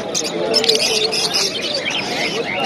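Pet birds chirp and tweet in a busy bird market, a dense overlapping chatter of small calls over faint crowd babble, continuous and fairly loud throughout.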